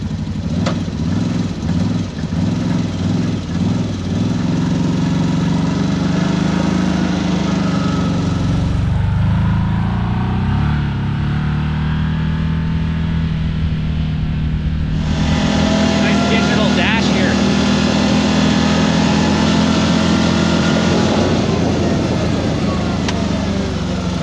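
A CFMOTO Z-Force 950 HO EX side-by-side in sport mode and two-wheel drive high, its engine droning loud and steady throughout with a brief dip and rise in revs, and people talking over it.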